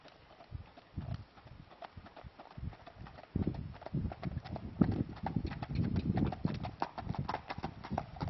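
Hooves of a horse with six to seven months of training clip-clop steadily on firm ground, a close and continuous walking rhythm with a brief pause early on.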